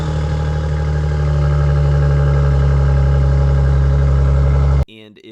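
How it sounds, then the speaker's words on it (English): A Maserati Ghibli S Q4 engine runs with a loud, steady, deep rumble for several seconds, then the sound cuts off sharply. "Start of this car is pretty loud."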